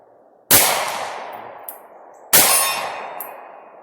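Two sharp shots from a Springfield Armory Hellcat pistol fired at a target about 25 yards away, each a loud crack with a ringing decay, followed by a faint metallic ping, spaced about two seconds apart.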